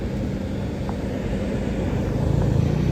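A car driving near a camping area, a steady low engine and road rumble heard from inside, constant and fairly loud with no talking.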